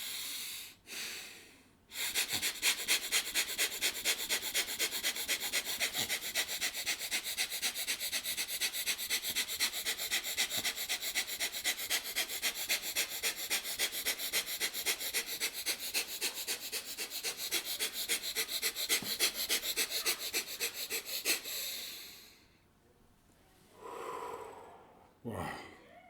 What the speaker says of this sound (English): Let's do the fast breathing.